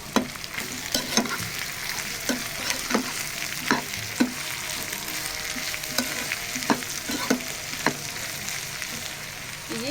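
Chopped tomatoes and capsicum sizzle in a pan for egg curry, a steady hiss broken by regular scraping strokes of a spoon stirring them, close and loud.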